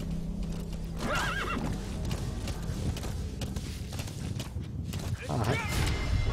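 A horse whinnies twice, separated by a few seconds, over steady hoofbeats and a busy mechanical backdrop in the video game Metal Gear Solid V: The Phantom Pain.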